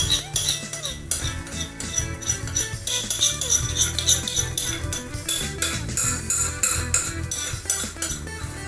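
Melted butter and chocolate stirred with a spatula in a bowl, a close, rhythmic run of scraping strokes and light clinks against the dish with no talk.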